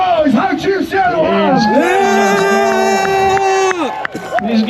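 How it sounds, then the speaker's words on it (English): Crowd at a Hawaiian luau show yelling, whooping and cheering loudly together, one long sustained group shout with overlapping voices, close and energetic, cut off abruptly near the end. "Make some noise."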